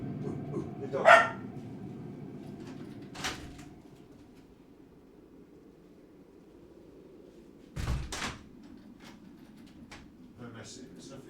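A dog in a household setting barks once early on, then gives a couple of fainter barks and knocks, separated by quiet stretches; a voice is briefly heard.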